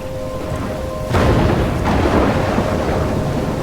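Thunder cracks and rumbles through a stormy night in the video game Life Is Strange, a loud broadband boom breaking in after a quiet tonal start and rolling on with steady rain-like noise.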